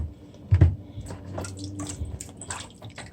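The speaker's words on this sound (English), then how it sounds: "You rinse it in water like 2 times" Water sloshes and trickles in a steady, close wash as chicken feet are rinsed, with one brief louder splash near the start.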